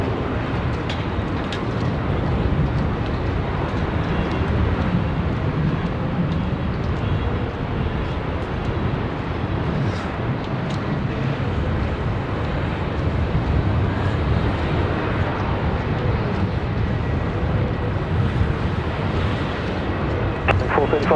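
A plane landing on runway 16 right at Sydney Airport gives a steady, broad rumbling roar that holds for the full twenty seconds, with faint voices mixed underneath.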